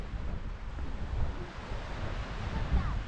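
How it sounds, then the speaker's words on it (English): Small waves wash steadily onto the shore at Puerto de Sóller on Mallorca, a continuous broad surf rush with some wind buffeting the microphone, heard close while walking along the seafront. "start to hear the waves crashing"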